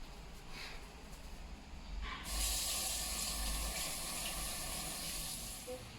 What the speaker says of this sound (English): we also need to wash the gloved hands too.